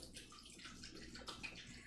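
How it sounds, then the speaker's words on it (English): Homemade butter is washed in chilled water, giving a continuous soft sloshing and splashing with faint gurgles, quiet and close, with no talking. "this is called washing the butter"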